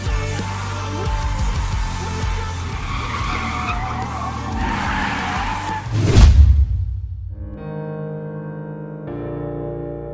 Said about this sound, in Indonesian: drifting yang memukau antara 240 SX dengan Skyline IR34 yang tentu aja udah di-tune up sedemikian rupa